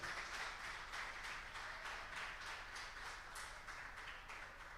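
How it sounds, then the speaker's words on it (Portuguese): A church congregation at Lagoinha Bertioga claps together in a dense, continuous wash of applause, heard faint and distant with no voices over it. "Pode dar uma salva de palmas bem forte, igreja"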